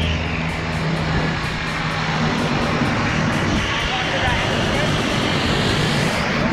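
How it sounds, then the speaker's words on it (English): A skydiving plane's engine runs steadily at a tandem skydive drop zone, a loud continuous drone with low harmonic hum, while people talk nearby. "All right, Abby, there's our plane"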